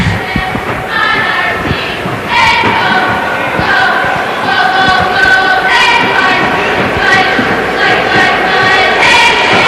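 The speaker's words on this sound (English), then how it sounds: "Crowd responding to the cheer." Hockey crowd at a St. Stephen's vs Brother Rice game responds to a red-and-white cheerleading squad's cheer, a steady loud roar of voices with shouts and thumps throughout.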